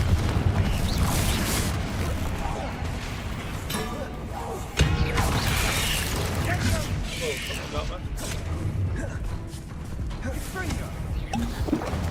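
Spell-casting effects from the video game Hogwarts Legacy, with the Confringo fire spell among them: a dense run of crashing, thudding blasts and clattering hits over a steady music and rumble bed, with a sharp impact near the middle and a voice shouting spell names throughout.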